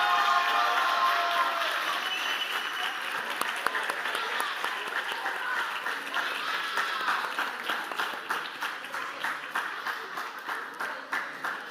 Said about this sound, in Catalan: Un fort aplaudiment per tots.